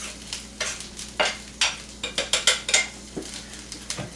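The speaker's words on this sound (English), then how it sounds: "It's all about the sizzle, folks." String beans cooking in a pan with garlic and ginger, with a rapid series of sharp utensil scrapes and clanks against the pan over a light sizzle, close and uneven in rhythm.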